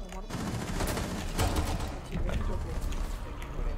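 Gunfire in Rainbow Six Siege, dense, rapid shots and bursts crackling steadily throughout, loud and close, with game noise layered underneath.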